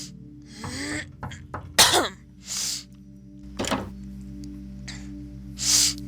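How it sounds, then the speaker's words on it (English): Several harsh coughs in short bursts, close and fairly loud, separated by quiet gaps over a steady low game soundtrack hum, with a thump near the start. "Sorry for my coughing."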